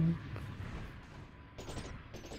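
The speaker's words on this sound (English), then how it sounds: "Iron shotgun." An iron shotgun firing in the space combat game Space Pirates and Zombies 2, with muffled booming blasts and a couple of bright bursts near the end, faint and mixed into a busy low rumble of battle.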